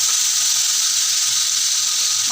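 Tamarind juice hits a hot tempering pan, giving a loud, continuous close sizzle and steamy hiss that holds steady throughout, with no speech.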